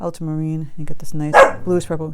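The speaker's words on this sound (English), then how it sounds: "Excuse my dog," A dog barks sharply a couple of times in a home art studio, mixed in among a woman's steady speech.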